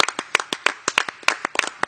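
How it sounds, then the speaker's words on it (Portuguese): Quick, sharp hand claps in an irregular run on a sports talk show set, close and crisp, with no one talking. "Palmas pra sua mãe."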